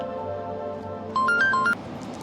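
A short electronic telephone ring, a few beeping tones over steady background hum, brief and moderately loud.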